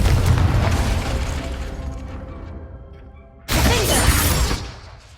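A Confringo blasting spell goes off in Hogwarts Legacy: a loud booming blast that rumbles and fades over a few seconds, then a second sharp explosive burst with crackling debris that trails away.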